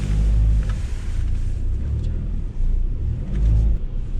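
A car engine rumbles steadily and loudly up close while the vehicle turns around on a road during a storm, with the low drone briefly dipping midway.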